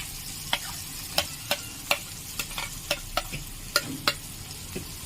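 Fried spice paste for paneer masala sizzling in a pan, with a dozen sharp spatula knocks and scrapes at an irregular pace over a low, steady fry.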